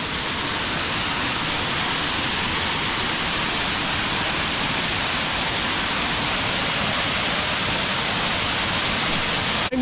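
Creek water rushing steadily in Loyalsock Forest, a dense, broadband roar like a nearby stream or small waterfall, continuous and loud with no voices.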